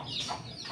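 A chicken in a backyard farm gives a short, close cluck, heard alone and at moderate loudness.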